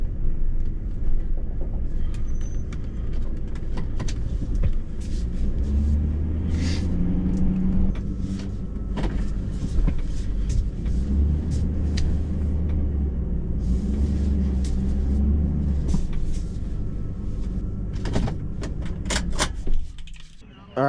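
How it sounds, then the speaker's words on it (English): A truck drives slowly over a wet campground track and pulls into a campsite, a steady low engine rumble with bumps, rattles and clunks throughout, ending with a sharp knock as it stops. "All right, I put the truck there,"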